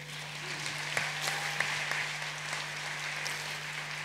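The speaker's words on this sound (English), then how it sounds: "Another round of applause for President Samia Suluhu Hassan." Audience applause at an African climate change summit in Nairobi, a steady patter of many hands clapping at a moderate distance, with a low electrical hum underneath.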